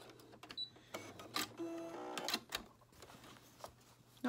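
A sewing machine runs in short bursts, stitching an inch of zigzag forwards and backwards to secure a small fabric medicine bag, with quiet pauses between the mechanical runs.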